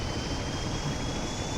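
A locomotive engine in Train Sim World gives off a loud, continuous roar with a high thin whine riding on top, sounding much like a jet airliner, steady and unbroken.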